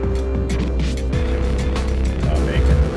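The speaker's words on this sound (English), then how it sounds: "Car is running a lot better." A 2001 Honda Civic LX sedan engine idles steadily at low RPM after repair, with a continuous low hum and faint mechanical clatter throughout, while someone talks over it nearby.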